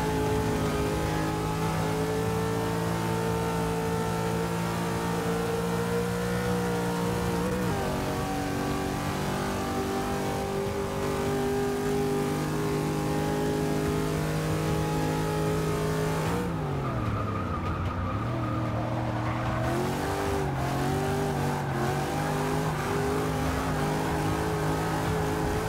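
Car engines in Forza 6 drone and rev loudly and continuously, pitch climbing through gear changes with a sharp drop and recovery midway, race-car tones close and constant with no talking.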